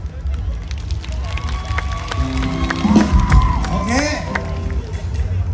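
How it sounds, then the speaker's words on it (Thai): Audience at a live comedy show at the Don Chedi memorial fair, with music and cheering crowd noise swelling into a burst of clapping and shouts around the middle before settling back to a lively hubbub. "นะนี่มีเสียงปรบมือเลย"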